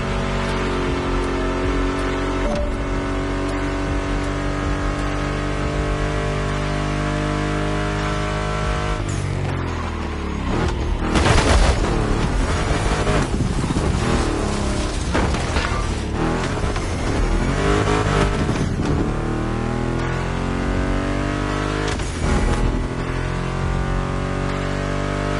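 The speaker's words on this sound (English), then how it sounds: "Meshes well with the sound of the engines" Mustang GT muscle car engines in The Crew Motorsports drone and rev continuously, with the pitch sweeping up and down as the cars accelerate, loud and steady throughout, blended with music.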